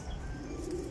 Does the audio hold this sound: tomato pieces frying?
no